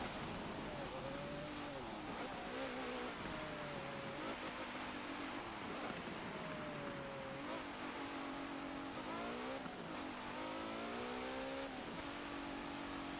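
A 2017 Maserati Levante S racing in Forza Motorsport 7, its engine revving up and down through gear changes in a steady loud drone, with tire noise and no talk.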